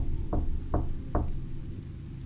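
A knocking sound effect from a front door: three evenly spaced, dull thuds that sound close, over a steady low background hum, with no voices.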